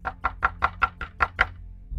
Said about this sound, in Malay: Saya pun tolong dia ketuk.